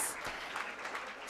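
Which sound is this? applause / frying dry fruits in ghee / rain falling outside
applause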